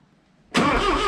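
The engine of a 1967 Toyota Corona RT40 cranks and catches after a quiet moment, a sudden loud rough rumble that continues to the end.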